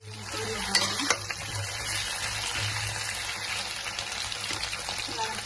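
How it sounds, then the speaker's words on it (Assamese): Potatoes sizzle softly in an oil pan with a steady, low frying hiss, and a couple of brief stirring clinks come early on. "আলুটো অলপ দেৰি ফ্ৰাই কৰি ল'ম"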